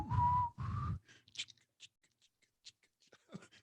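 A person tries to whistle a little melody: two short, loud, steady whistled tones, followed by quiet clicks and faint rustling.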